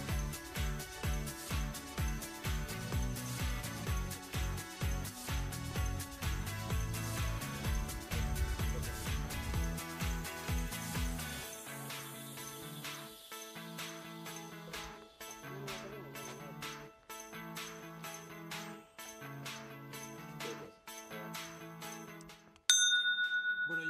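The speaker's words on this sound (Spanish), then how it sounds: "Hemos llamado a la campanilla de este lugar, de la Ferme de Soulon" Someone rings the small bell at the entrance of a mountain farmhouse bed and breakfast, the Ferme de Soulon, in a valley: one bright, sharp ring sounds near the end, after a long stretch of steady background music.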